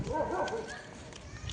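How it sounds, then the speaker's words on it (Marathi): Dogs at a house whimper and give soft, muffled barks as people get ready to leave, the sounds faint and low over a steady background hum. "कुत्रे पण हे करायला लागलेत"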